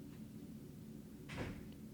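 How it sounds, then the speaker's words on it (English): A door slams shut once indoors at moderate distance, a single brief thud with a short rattle, rising over a steady low room hum with no talk. "I'm going to have another door slam."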